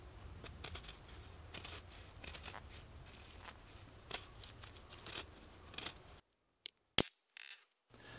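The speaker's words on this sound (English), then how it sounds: "Next, we'll cut another stick about a foot long." Stone tool scraping and cutting through a wooden stick, close and faint, with irregular rasping strokes and crunches, then near silence broken by a few sharp snaps.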